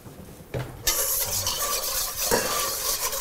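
Whisk scraping and clinking in a bowl as sautéed onions are worked into a potato salad dressing for Wiener Schnitzel, quiet rhythmic strokes with a brief knock near the start and no talk.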